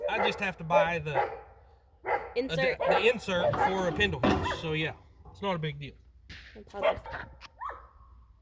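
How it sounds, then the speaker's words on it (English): Dogs barking in the background as someone talks, with scattered yips and whimpering woofs underneath steady close speech. "I apologize for the dogs barking in the background."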